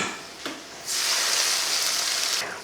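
Hot tadka with asafoetida, poured from a pan into coriander thokku, crackles into a loud, steady hiss that swells suddenly and holds for about two seconds before easing off, with no talking.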